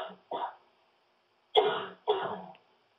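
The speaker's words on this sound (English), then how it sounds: "Excuse me, I've got a cough." Four short, sharp coughs come in two pairs from an adult close to the microphone in a quiet room.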